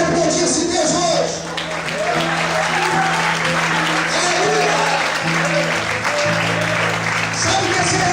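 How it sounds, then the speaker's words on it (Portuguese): A church congregation breaks into loud, sustained applause over sustained music, mixed with shouts and voices from the crowd. "Você pode aplaudir esse Deus hoje."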